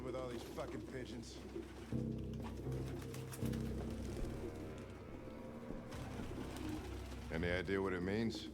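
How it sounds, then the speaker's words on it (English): Pigeons coo repeatedly in a scene from the video game Detroit: Become Human, with soft throaty warbles under music, and talk running alongside. "I could live with all these fucking pigeons."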